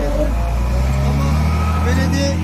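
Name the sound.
car passing from the opposite direction on a snowy road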